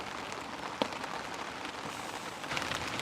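Spring rain falls steadily at a carp fishing spot, a soft continuous patter on surfaces with a few sharper drips and a slight swell near the end, quiet and with no speech.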